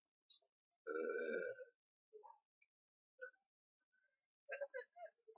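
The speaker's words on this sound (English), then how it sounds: "I think you're out of burps" A person burps loudly and close once, with a long, voiced belch, followed by several shorter grunting burps and vocal noises, separated by silence.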